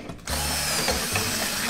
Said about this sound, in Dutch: daarvoor boor je dwars door het midden een gat